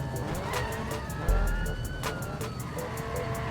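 Police sirens wail in a Need for Speed chase, a rhythmic pulsing whoop over a steady car engine drone, loud and close for the whole stretch.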